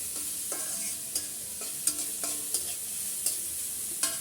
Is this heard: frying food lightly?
yes